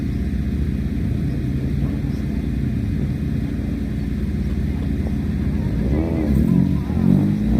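A 2002 Elephant sprint car with a 1600cc engine idles at the start line of the Leyburn Sprints, a steady loud engine rumble that swells slightly near the end.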